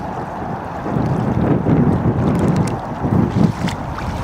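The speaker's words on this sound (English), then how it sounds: "Wind's coming up, but straight into wind." Steady wind gusts across an open lake where robot boats are being tested, a continuous rushing and buffeting close on the microphone with no talk.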